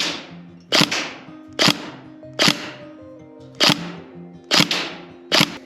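An airsoft gun fires 0.2 gram 6mm BBs with no nozzle attachment, six sharp cracking shots spaced roughly a second apart, loud and close, each over a faint mechanical hum.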